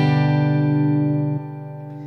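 A guitar chord rings out sustained and loud, close up, with a slight drop in level partway through as it decays; no voices.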